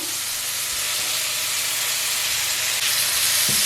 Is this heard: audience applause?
no